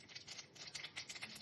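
Mustard seeds crackle and pop in hot oil for a tempering, a quiet, dense run of rapid irregular ticks and spits with nobody talking.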